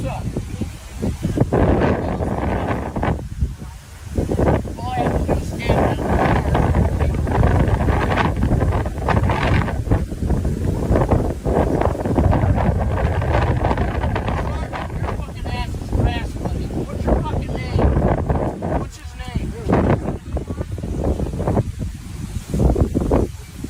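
Strong wind blows outdoors, roaring and buffeting across the microphone in loud, continuous gusts for the whole stretch, with people talking intermittently underneath.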